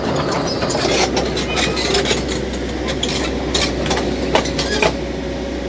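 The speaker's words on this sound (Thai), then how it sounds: "โกเบโก้ครับ SK200 รุ่น8 YN11" A Kobelco SK200 series 8 (YN11) excavator engine runs steadily at a constant, loud, close drone with a low rumble throughout, while scraping and knocking noises from digging farmland ponds rise over it.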